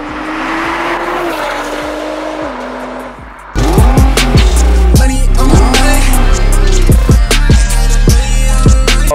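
Nissan GT-R sports car with a 3.8-litre twin-turbo engine and 6-speed dual-clutch transmission, driving: a steady engine drone at first, then after a short drop, loud revving with repeated rising gear-change sweeps close by.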